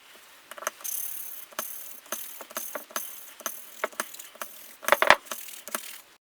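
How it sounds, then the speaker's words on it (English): An engine inlet valve is lapped into its seat with grinding paste, giving a close series of irregular gritty clicks and rasps with no talk. "So I've finished lapping the inlet valve in now"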